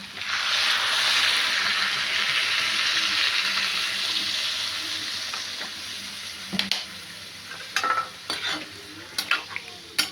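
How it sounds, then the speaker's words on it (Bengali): Water poured into a pan of sizzling potatoes and bitter gourd makes a loud hiss and splash that fades over several seconds, then a few sharp clinks and scrapes of stirring follow in a home kitchen. "একটু জল দিয়ে দেবো আলুগুলো সিদ্ধ হয়ে আলু আর করলা সিদ্ধ হবে"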